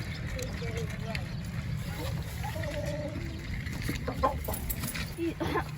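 Chickens cluck at a farm attraction in a village setting, steady clucking and a few short calls close by over constant low rumble and background noise.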